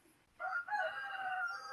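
One long drawn-out crow from a rooster outside a window starts abruptly and holds steady, faint and distant, with no voices.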